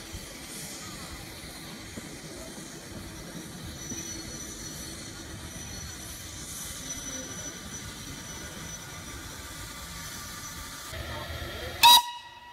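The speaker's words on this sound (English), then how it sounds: "Passing by the cameras now is the Bressingham owned and recently overhauled LBSCR A1 class numbers B662 Martello" Southern Railway green LBSCR A1 class steam locomotive B662 Martello, recently overhauled, rolling past on a museum line, a steady rumble of wheels and clanking at moderate distance, ending in a sharp, loud whistle blast near the close.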